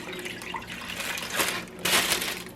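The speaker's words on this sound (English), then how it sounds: "pour water in here" Water poured into the base of a triple slow cooker, a close, steady splashing rush that surges louder in two bursts toward the end.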